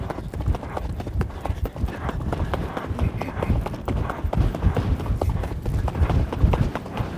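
Horse hooves clip-clop steadily in a running rhythm as the horse is ridden around a curve, close and loud, with a person talking over them.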